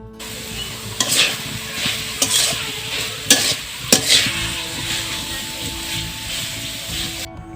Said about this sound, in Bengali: শাকগুলো যখন দেখবেন যে ভাজা ভাজা হয়েছে আর কড়াইয়ের সাথে লাগা লাগা ভাব হয়েছে